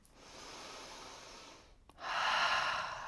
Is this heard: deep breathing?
yes